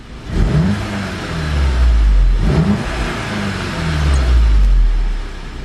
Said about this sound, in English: If you rev it and then let off, it sometimes won't come down the revs and idle nicely.